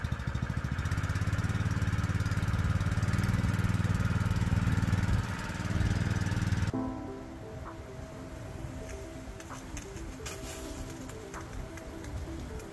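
Harbor Freight Predator 2-inch trash pump with its small gasoline engine running at low idle, a steady loud mechanical drone that drops to a lower, rougher throb partway through, with splashing water noise and no talk.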